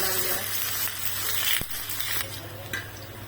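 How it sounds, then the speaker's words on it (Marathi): Onion frying in hot oil for a Maharashtrian pithla, a dense, steady sizzle close by with a couple of faint knocks from stirring. "आता कांदा आपला छान तळला"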